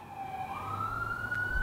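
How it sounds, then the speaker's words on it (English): A police siren wails outside, a steady rising electronic tone heard from a moderate distance, faint but continuous with low traffic rumble beneath. "It's the sound of the police."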